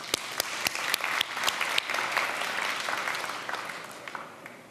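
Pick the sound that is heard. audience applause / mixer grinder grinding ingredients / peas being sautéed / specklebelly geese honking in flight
audience applause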